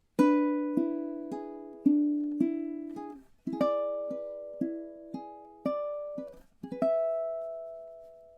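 Fingerstyle ukulele plays a slow passage of Moonlight Sonata, measures 30 into 31: clear, ringing plucked notes in an even rhythm, each decaying before the next, ending on one longer sustained note; close and alone.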